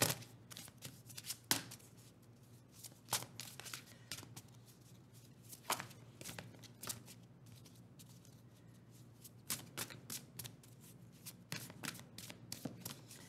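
Cards are shuffled repeatedly, with crisp riffling bursts and soft slaps in an irregular rhythm, close up with no talking.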